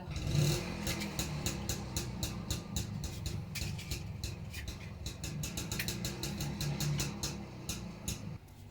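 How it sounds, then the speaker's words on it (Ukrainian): A motorcycle engine runs steadily nearby while a son heads off on an overnight fishing trip, a mid-pitched continuous drone with some clatter and light revving lasting several seconds before cutting off near the end. "Тут мотоцикл, то вибачаюсь"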